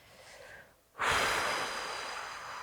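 One deep calming breath, close and clear: a soft drawn-in inhale, then a fuller, slow, audible exhale that trails away gently, with no speech around it.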